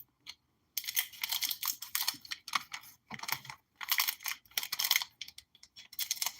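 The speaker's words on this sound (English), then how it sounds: "Let me go ahead and use the scissors on all of them" Scissors cut open a series of thick trading card packs in bursts of sharp, crisp snipping and crinkling wrapper sounds, close and fairly loud, with short pauses between packs and no talking.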